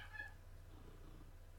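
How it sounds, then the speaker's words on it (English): A domestic cat gives a short meow near the start, followed by quiet room tone. "The cat's back in here."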